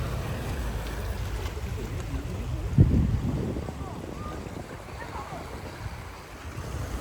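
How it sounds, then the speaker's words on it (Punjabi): Sea waves and wind roll continuously at a shore in Greece, a steady rushing wash with blustery wind noise on the microphone and one sharper thump midway. "ਇਹ ਸਮੁੰਦਰ ਜੇ"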